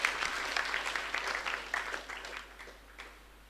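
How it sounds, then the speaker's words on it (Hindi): An audience at a Hindi poetry gathering applauds aspiring army Agniveer cadets, a brisk round of crowd clapping that stays full for about two seconds before tapering off into scattered claps. "उन बच्चों के लिए एक बार ताली बजा दीजिए जो आर्मी में अग्निवीर बनने के लिए प्रयत्नशील हैं।"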